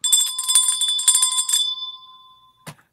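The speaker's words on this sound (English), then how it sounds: "Let's not forget to ringy-ding that bell." A bell sound effect rings with rapid, bright repeated dings for about a second and a half, then fades out. A short knock follows after a brief pause.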